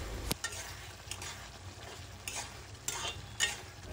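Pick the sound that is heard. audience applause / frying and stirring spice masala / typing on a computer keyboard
frying and stirring spice masala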